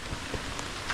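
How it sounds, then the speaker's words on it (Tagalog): Heavy rain pours down in a dense, continuous hiss with scattered louder drops, close and steady throughout this short moment with no talk. "Biglang lumakas ang ulan."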